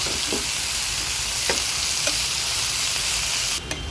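Ridge gourd peel being stirred into fried onions in a pan, a steady close sizzle with a few soft scraping strokes of the spoon spaced through it and a brief louder clatter near the end.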